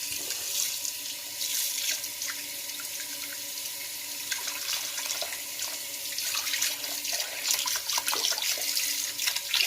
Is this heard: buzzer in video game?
no